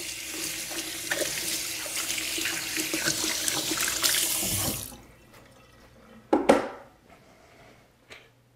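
Tap water runs steadily into a kitchen sink for a quick rinse, a close, hissing gush that stops after about five seconds, then a couple of brief clattering knocks follow.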